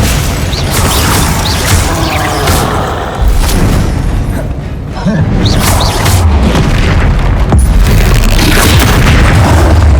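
Spell blasts from Confringo and Glacius in Hogwarts Legacy: a steady stream of loud booming bursts and crackling impacts, repeated over a dense, busy combat bed, with a voice calling out spell names.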